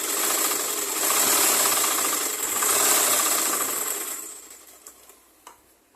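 A sewing machine runs in steady bursts, stitching a piece onto a blouse sleeve, its buzzing whir rising and falling over several seconds before tapering off near the end.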